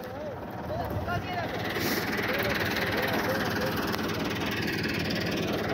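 A 2022 Massey Ferguson 385 tractor engine labours under a heavy load on a rough track, a steady loud drone with rumbling vibration that never lets up.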